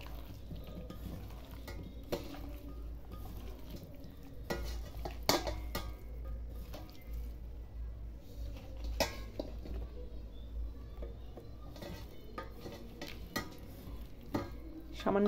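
Chicken and vegetables being mixed by hand for a Bengali-style eggless crispy chicken sauté, a continuous soft squelching and rustling with scattered clinks of a bowl or utensils, steady and close, with no talking.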